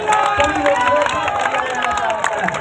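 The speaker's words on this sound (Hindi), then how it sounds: "मैं सभी लोगों से निवेदन करना चाहता हूँ कि सब लोग तालियां बजाकर स्वागत करें।" A crowd at a Congress party political rally claps to welcome new party members, loud sustained dense applause mixed with crowd noise and babble throughout.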